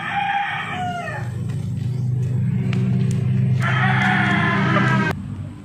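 A rooster crows loudly and close by, two long drawn-out calls over a low rumbling background.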